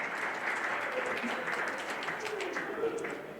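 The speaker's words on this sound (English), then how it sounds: "applaud for yourselves right now for coming here" An audience in a room applauds steadily at a fairly close distance, with a dense wash of clapping holding level throughout and murmured voices mixed underneath.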